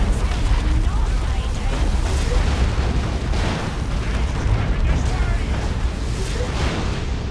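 An orbital strike lands in the Dawn of War II: Retribution video game with a loud, sustained roaring rumble of explosions that fills the whole stretch without letting up.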